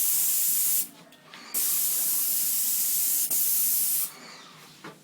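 A Wagner Project Pro 119 airless paint sprayer hisses loudly as it coats a plaster cornice, in three long bursts broken by short pauses, close and steady.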